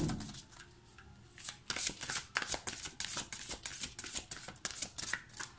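Tarot cards shuffled by hand, a quiet riffle of soft papery flicks and slaps in a quick, even rhythm, close and alone.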